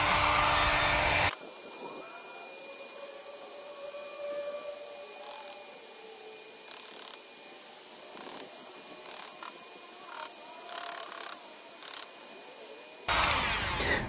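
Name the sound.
heat gun blowing hot air to remove CPU pins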